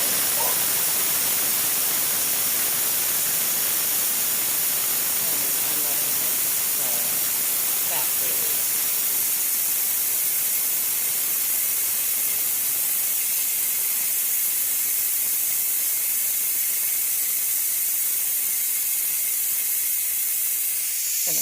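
A Ninja Foodi pressure cooker releases steam in a continuous, loud hiss that holds steady for the whole stretch, with faint traces of a voice early on.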